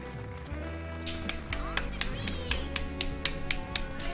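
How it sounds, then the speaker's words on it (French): One person claps in a steady rhythm, about two sharp claps per second, over a tonal background hum and a talking voice, at a Stunfest gaming-event training session. "J'applaudis, j'applaudis."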